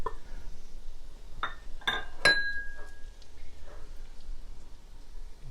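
Saffron stirred into ground turmeric and cumin in a bowl for chicken tagine, with a few light clinks and taps of a utensil against the bowl, close and quiet.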